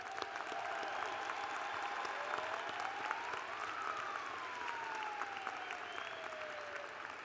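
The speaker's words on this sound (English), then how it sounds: "Please join me in showing our appreciation with a round of applause for all of their efforts." An audience at a university spring commencement ceremony applauds in a sustained, even round of clapping, with a faint siren rising and falling in the distance.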